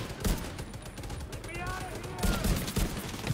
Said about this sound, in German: Schön Deckungsfeuer.